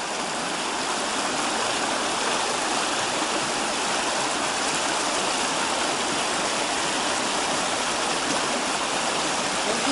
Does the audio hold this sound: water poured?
yes